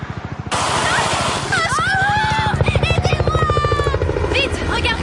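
Helicopter in an animated cartoon, a loud continuous rotor chop with steady rhythmic beating throughout, starting abruptly after a brief moment, with character voices talking over it.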